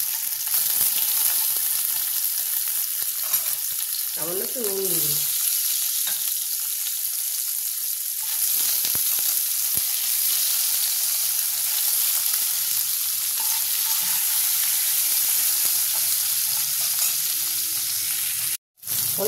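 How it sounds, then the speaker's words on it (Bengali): Paneer pieces fry in hot oil in a kadai with a steady, close sizzling hiss that runs almost throughout, while a voice speaks briefly near the start. "কড়াইয়ের মধ্যে গরম তেলে দিয়ে দেবো। হালকা করে ভেজে নেবো পনিরটা।"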